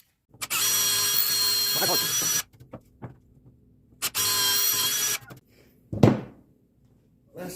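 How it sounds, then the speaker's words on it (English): Two sustained bursts of a power drill whining at high speed while drilling hard maple with Harbor Freight bits, each about two seconds long, with short clunks and knocks between and after them. "We're going to drill a hole at both of those places."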